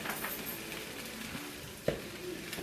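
Scrambled eggs seasoned with pepper and garlic salt sizzle quietly in a pan. A steady low frying hiss is broken by one sharp utensil clink just before the two-second mark.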